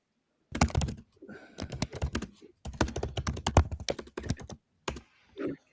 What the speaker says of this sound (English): you can hear my typing